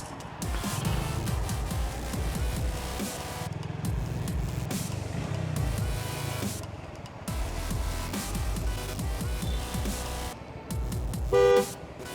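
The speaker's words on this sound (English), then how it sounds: "He didn't want to talk, but now he's honking at me." A car horn honks repeatedly on a road in a tense roadside confrontation, sounding as a series of loud, fairly close blasts separated by brief gaps.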